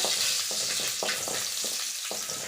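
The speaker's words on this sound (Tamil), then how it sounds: "இடித்து வச்ச பூண்டு இந்த மாதிரி நல்லா வதக்கி கூட்டுக்கோங்க" Crushed garlic sizzles steadily as it sautés in a hot pan with oil and a cinnamon stick, continuous frying hiss punctuated by several soft spoon scrapes at an irregular rhythm, close and fairly loud, no voices.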